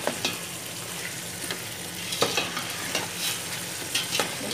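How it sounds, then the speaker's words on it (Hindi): Large mutton pieces fry in a pot with a continuous sizzle, broken by intermittent scraping stirs and clinks, close and moderately loud with no talking. "इनको हल्का सा करना है हमने फ्राई।"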